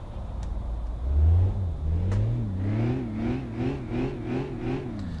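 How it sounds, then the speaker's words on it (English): A Volkswagen Golf R32 engine in the City Car Driving game cranks to life with a loud low surge, then settles into a steady idle broken by several rhythmic rising revs, close and clear, with no talking. "Got a nice sounding engine to it."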